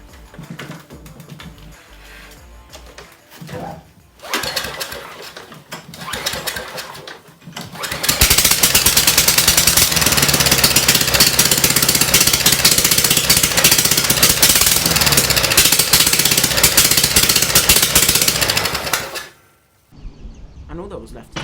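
A small straight-piped lawn mower engine with a loud, raw exhaust roars to life and runs hard for about ten seconds, then cuts off abruptly.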